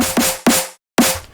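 Clean electronic snare drum sample with reverb for a heavy drop, struck three times in an uneven rhythm, each sharp hit trailing off in a short reverb tail, played alone.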